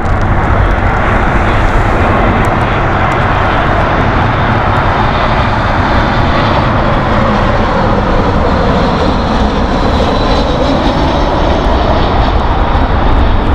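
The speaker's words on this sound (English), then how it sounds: "That aircraft was a lot closer to us" A jet airliner's engines roar steadily and loudly at Heathrow Airport in foggy conditions, a close, continuous wash of broadband noise with a slowly shifting pitch as the aircraft passes.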